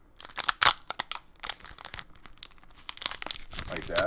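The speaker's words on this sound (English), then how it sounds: "I'm just crumpling a pack." An opened Pokemon card pack wrapper being crumpled by hand close to the mic, with bursts of sharp crinkling and crackling foil in irregular handfuls, some louder squeezes standing out.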